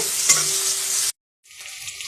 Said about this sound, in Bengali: মাংস রান্না হচ্ছে। পেঁয়াজ দিয়েছি তবে পেঁয়াজ ভাজা ভাজা হলে আদা রসুন দেবো